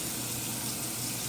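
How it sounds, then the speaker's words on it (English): Running water rinses the uptake tubes of a Fluval Flex aquarium, a steady, close hiss of flowing water with no talk over it. "I just rinse it off with good water, get the tubes cleaned up."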